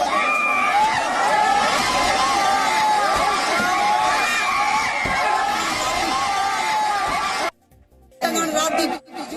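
A large crowd in news footage roars with shouting and cheering voices, loud and continuous, then cuts out abruptly near the end before brief noisy fragments return.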